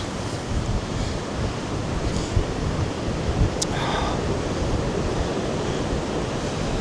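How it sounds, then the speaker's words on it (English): Strong wind from Storm Therese in Tenerife buffets the microphone in a steady low rumble, with a surf-like roar underneath and a brief faint higher noise partway through. "It is so windy, unbelievable."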